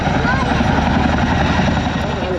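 A helicopter roars nearby at an airshow, with a dense, pulsing rotor thump and loud engine drone, steady throughout the short stretch.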